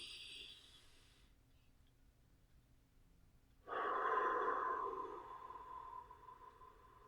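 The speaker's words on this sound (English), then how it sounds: "take a couple of deep breaths with me" A person takes slow, deep breaths close by, a soft airy exhale followed by a stronger, louder breath that fades gradually, in an otherwise quiet setting without speech.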